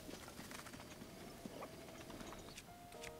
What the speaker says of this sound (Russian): О, вон конь, ура!